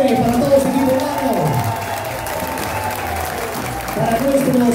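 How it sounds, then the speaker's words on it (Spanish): A large audience at an equestrian show at Hacienda La Margarita gives sustained applause and cheering, the steady roar of clapping continuing under a voice talking over it. "que se escuche ese aplauso enorme para todo ese equipo humano"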